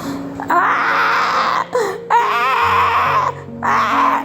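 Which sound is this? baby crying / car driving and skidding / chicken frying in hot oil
baby crying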